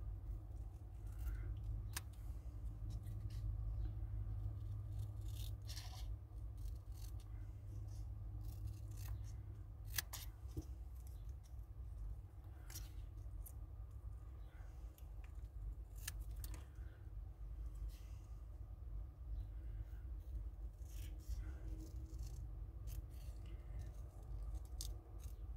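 Small scissors snip around the edge of a handmade paper card in a quiet room, producing faint, close, irregular clicks and cuts spread over about twenty-five seconds under a low background hum.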